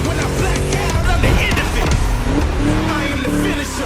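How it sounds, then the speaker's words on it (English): A V8 engine roars steadily throughout a racing lap in The Crew Motorfest, dense and loud with layered revving and faint tire noise, while a voice talks over it. "Just listen to that V8, like a chonky, down-tuned guitar riff"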